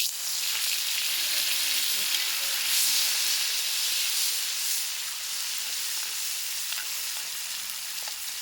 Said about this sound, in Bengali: তেলটা হয়ে গেছে, তেলের ভিতরে দিয়ে দেবো পেঁয়াজ কুচি